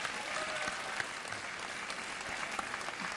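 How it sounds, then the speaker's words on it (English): A crowd claps through a spring all-CIF high school sports awards show, a faint but steady patter of applause with a few sharper individual claps. "a round of applause for Mike Milburn and Tori there, everybody."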